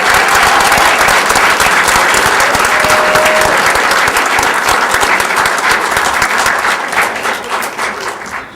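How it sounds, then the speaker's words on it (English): Sustained audience applause for a group of champions at a live event, loud and dense from start to finish, thinning slightly in the final seconds. "a round of applause for these champions."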